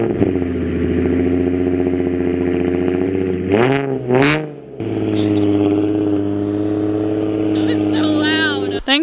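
A Nissan GT-R engine fitted with a turbo roars loudly at a high idle on a cold start, dips briefly as the revs drop and flare, then settles back into a steady, booming drone.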